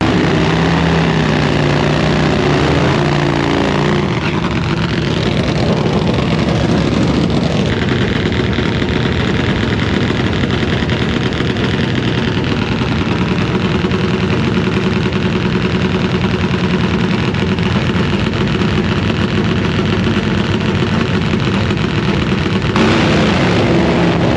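A nitro drag motorcycle's powerful engine roars continuously for the whole stretch, rising in pitch as it accelerates away down a quarter-mile track at Maxton, North Carolina, loud and raw.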